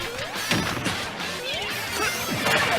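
Sonic landing a forward smash on an Inkling in a Super Smash Bros tournament match, heard as sharp crashing and whacking hits with whooshes layered over busy game sounds and music.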